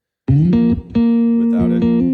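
A dry, close-miked sustained instrument with no room reverb, playing a few held notes with clear pitch changes, loud and alone.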